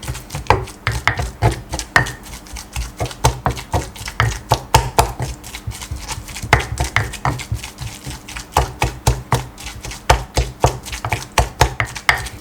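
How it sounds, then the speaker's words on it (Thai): Steady rhythmic thudding of a pestle pounding Thai curry paste in a mortar, repeated dull knocks continuing without pause, close by. "ก็โขกให้เข้ากัน"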